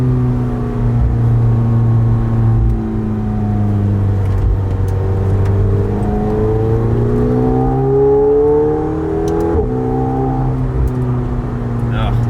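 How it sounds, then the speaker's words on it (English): A McLaren sports car engine drones loudly from inside the cabin, its pitch rising and dropping through downshifts, with a brief exhaust pop near the end. "That exhaust when you downshift, oh my god, yeah, it sounds so good."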